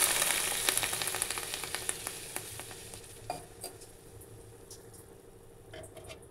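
A pan of cooking broccoli with sprouted peas and chickpeas bursts into loud sizzling as water is poured in, the hiss and crackle close and strong at first, then gradually settling and fading into quieter bubbling.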